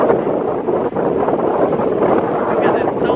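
Strong wind buffets the microphone beside a lake with whitecaps in Reykjavik, Iceland, a loud, constant roaring rumble that stays heavy throughout with no pauses.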